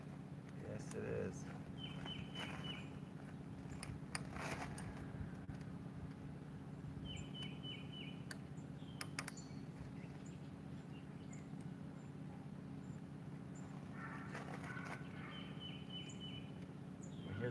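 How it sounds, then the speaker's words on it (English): Birds sing outdoors during a bicycle repair, giving brief, faint chirps and short trills at intervals. The calls sit over a steady low background hum with no loud foreground sound. "Hear the birds."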